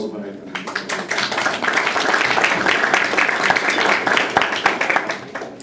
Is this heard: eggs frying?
no